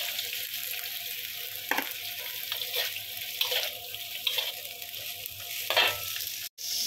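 Ground pork sautéing in a pan with soy sauce and sesame oil, a steady close sizzle with stirring scrapes throughout and a sharp clatter near the end.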